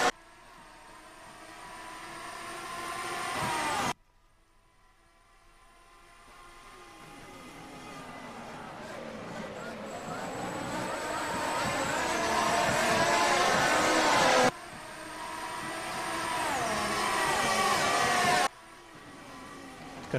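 Racing cars in a video game complete the first lap of the Australian Grand Prix at Albert Park, engine whine rising steadily in pitch and volume with abrupt cuts between passes, no voices heard.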